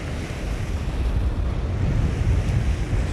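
Steady wind buffeting the microphone over waves breaking on the rocky shore at Beacon Point, Newbiggin-by-the-Sea, a constant loud roar of surf and gusts with no voices.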